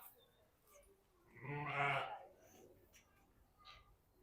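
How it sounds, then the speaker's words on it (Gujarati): One sheep or goat lets out a clear, wavering bleat over quiet background at Stonehurst Farm, with faint farm noises before and after. "જો ઘેટા બકરા"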